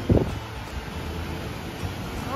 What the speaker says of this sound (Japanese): 三段の滝にやってきました。